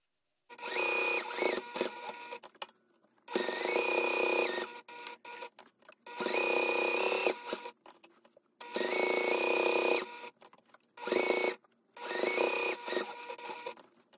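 A sewing machine runs in six rapid, rattling bursts of stitching separated by short pauses while top stitching a quilted fabric soup bowl cozy, loud and close with no talk.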